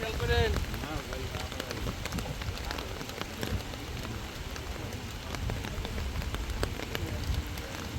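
Heavy rain pours steadily onto surfaces during an outdoor fishing session, a constant dense hiss with people talking over it.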